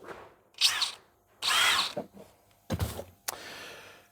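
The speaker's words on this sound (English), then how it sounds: "take the drill" A power drill whirs in several short bursts, close and fairly loud, with brief pauses and a clunk between runs, drilling parts on a Ford RS200 rebuild.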